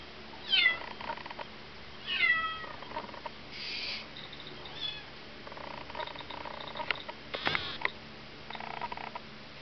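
A cat meows several times in short, scattered calls, faint and somewhat distant, with quiet gaps and small rustles between them and no talking.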